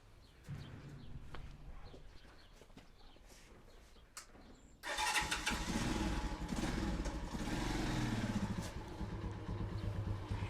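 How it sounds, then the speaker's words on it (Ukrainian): A motorcycle engine starts up partway through and settles into a steady, loud idle, after a quieter stretch of faint outdoor noise. "виведе мотоцикла"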